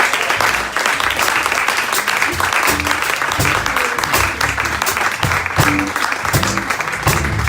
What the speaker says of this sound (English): Round of applause for YA Poetry.